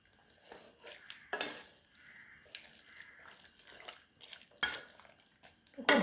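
Ground coconut being stirred into a pot of curry, with scraping and clinking of a spoon against the pot in short bursts and a few louder knocks near the end, fairly close, with no voices.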